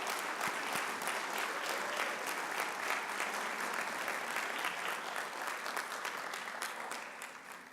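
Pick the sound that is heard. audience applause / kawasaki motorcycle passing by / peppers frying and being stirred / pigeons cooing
audience applause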